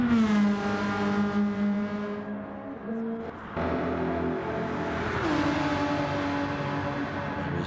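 Radio-controlled race cars in a multi-class league race at St Croix, their high-pitched motors whining and shifting pitch continuously as several cars pass close by.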